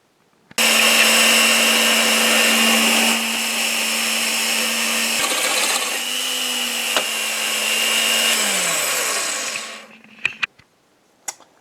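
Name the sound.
drilling a hole with a 35 mm wood bit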